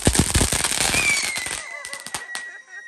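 Diwali firecrackers and rockets go off outdoors among friends. Rapid, sharp crackling bangs burst close by, then thin out while a rising rocket whistle carries on through the later pops.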